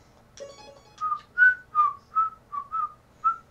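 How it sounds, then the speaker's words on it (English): A soft, plinking music box melody in the video game Undertale, bright tonal notes at a steady pace, about eight notes in a row, gentle and somewhat distant with no talking. "The serene sound of a distant music box."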